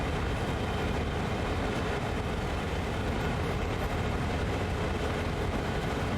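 Locomotive reversing at a steady 14 mph in Train Sim World 2 on the Sand Patch Grade, a constant low rumble and broadband rolling noise holding at an even level throughout.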